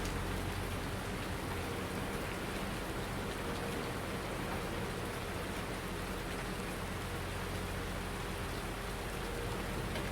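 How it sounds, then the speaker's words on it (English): Steady, dense rain hisses without a break in Farming Simulator 19 on the Eiersholt map in early winter, an even wash of falling drops with no talking over it. "In the rain."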